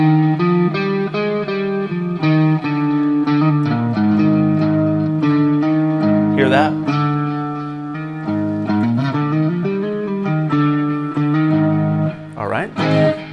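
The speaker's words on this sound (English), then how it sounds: "So an A Lydian sounds like this." Electric guitar, heavily effected and distorted, playing an A Lydian scale as a string of sustained notes with bends and a couple of expressive pitch swoops, loud and alone throughout.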